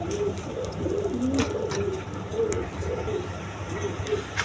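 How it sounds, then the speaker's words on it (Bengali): High-flying Giribaz pigeons coo repeatedly in a farm loft, a steady overlapping chorus of soft rolling calls over a constant background murmur. "হাই ফ্লাইং গিরিবাস কবুতর"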